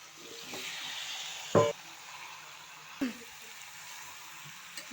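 Home-raised chicken curry sizzles softly and steadily in a pan as raw potatoes go in, with two brief clunks from the additions over the low hiss.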